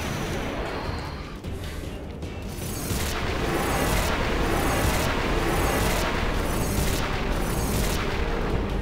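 A fire gem explosion in the video game Final Fantasy X: a quieter rumbling lead-in, then a sustained loud roar pulsing with rapid, rhythmic booming blasts, like a barrage, with no talk.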